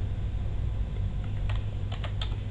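Keystrokes on a computer keyboard, a few quick, faint clicks in a short burst near the end over a steady low room hum.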